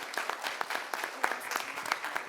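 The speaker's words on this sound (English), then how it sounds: "Yeah, you can clap." Scattered applause from a small audience at a proclamation ceremony for Diaper Need Awareness Week, light and uneven claps at moderate distance filling a brief stretch with no talking.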